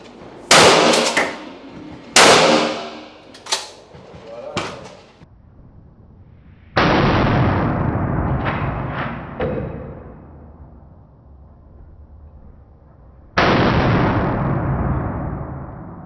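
Shots from a Savage Impulse Driven Hunt straight-pull rifle fired outdoors: four sharp, loud cracks in quick succession, then two heavier booming reports with long echoing tails.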